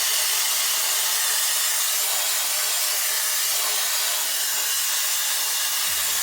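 A Shark FlexStyle hair dryer blow-drying short hair makes a loud, constant airy rush that holds steady before cutting off abruptly at the end.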